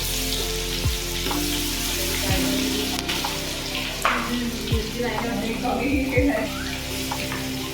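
Ginger garlic paste sizzles steadily in a hot pan during biryani cooking, a continuous crackling fry with occasional clinks and stirring, while people talk nearby.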